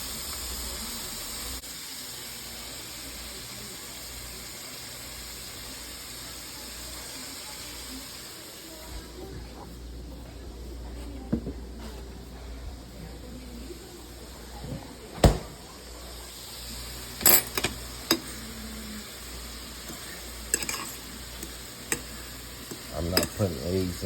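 Shrimp garlic butter noodles stir frying in a pan, a steady sizzle and hiss with utensil scrapes and clanks growing busier and louder toward the end.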